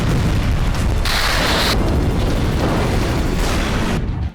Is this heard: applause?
no